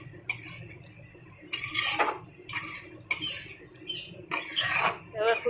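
Half-cooked mixed vegetables for Bengali chachri are stirred in a pan with a little water, producing bursts of metallic scraping and clinking in uneven strokes, close and moderately loud.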